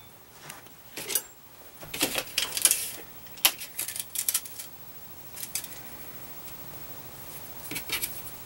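An element for a 70 cm J-pole antenna is cut to length: sharp, irregular clicks and snips close by, clustered in bursts over quiet room tone, with no talking.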